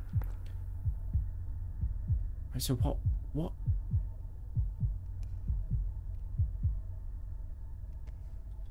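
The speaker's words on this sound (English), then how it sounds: "So I wonder if the heartbeat is just like" Slow, steady heartbeat thumps repeat throughout a ghost-hunting horror game, low and close, with a man's brief spoken remarks over them.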